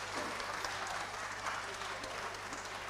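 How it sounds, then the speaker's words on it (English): An audience applauds at a crypto meetup, giving a steady wash of many hands clapping at moderate distance for a few seconds. "a big round of applause"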